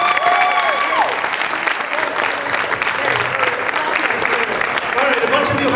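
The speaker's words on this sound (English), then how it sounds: "Let's give them all another big round of applause." A high school grad night audience at a comedy hypnotist show breaks into a big round of applause, dense clapping mixed with cheers and a few whistles throughout.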